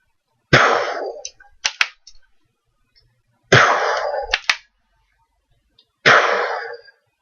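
A life-size LEGO pump shotgun fired three times, each shot a loud close snap followed by quick clacking of the pump mechanism, spaced a few seconds apart.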